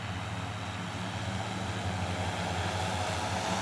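Agricultural spraying drone flying over a rice paddy while spraying pesticide, its rotors making a steady, continuous engine-like drone with a low hum that holds at an even level throughout.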